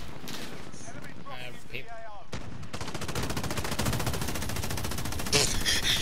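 Gunfire in the video game Warzone: rapid, sustained bursts of automatic fire fill the second half, following a few sharp shots, with people talking over the start.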